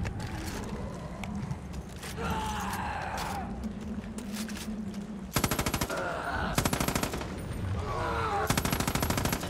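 Sustained machine gun fire in the video game Far Cry 5 Arcade, rapid bursts rattling loudly over a constant background din, with dense repeated volleys in the later seconds.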